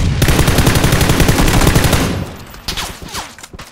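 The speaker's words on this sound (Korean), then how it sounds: "아, 딴 데서도 쏜다." Rapid automatic gunfire in PUBG, a loud close burst of evenly spaced shots for about two seconds, then fading into scattered distant shots and echoes.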